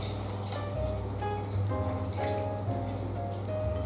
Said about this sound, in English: we want to add our vegetable stock